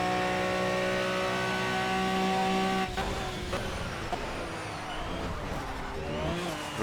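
An Aston Martin Vantage V12 GT3 race car in Project CARS screams at high revs around Monza, then cuts off abruptly under hard late braking, leaving rough lower engine noise and tyre scrub, with no talk.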